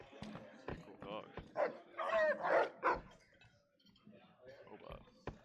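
In the video game Fallout New Vegas, a dog barks and yips in short, close bursts, mixed with clicks and low game background sounds.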